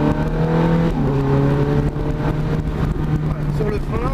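A Ferrari engine revs up and pulls hard, its pitch climbing, with a French-speaking voice talking over the engine noise.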